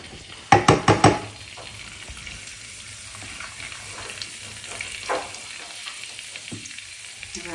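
Oil crackles and sizzles loudly in a hot clay pot, with a burst of sharp pops near the start, then a quieter steady fry with occasional clinks, preparing misal.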